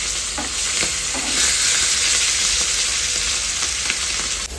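Pomfret fish fries in a hot pan with a loud, steady, close sizzle and a few soft bumps and scrapes as it is turned. No one speaks.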